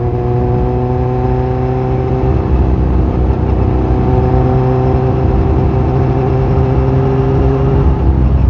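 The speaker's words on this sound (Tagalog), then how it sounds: "Ito na po yung sinalpak natin na muffler" Motorcycle engine fitted with a new aftermarket muffler idling and revving at about quarter throttle, a loud crisp steady drone with strong harmonic tones, close and without speech.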